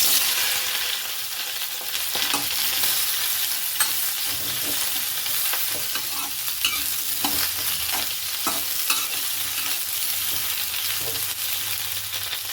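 Okra frying in about one and a half spoons of heated oil, a continuous bright sizzle throughout, broken by occasional soft scrapes and clinks as the pieces are stirred.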